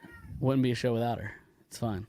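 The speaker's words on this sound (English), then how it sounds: "she just sits here and meows" Pet cat meowing indoors, two drawn-out meows followed by a shorter third, close and clear, with a person talking around them.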